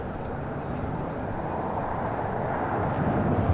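An airliner's jet engines roar at LAX during a takeoff roll and rotation, a loud, broadband rush that holds steady and swells slightly toward the end.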